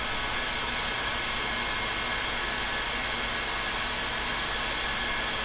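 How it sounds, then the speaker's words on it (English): A heat gun on a moderate setting blows hot air to soften PVC for a bow, giving a steady, loud, unbroken whoosh of airflow that runs alone for the whole stretch. "When I'm feeling lazy and not feeling like letting the hot glue gun heat up, I just use the heat gun."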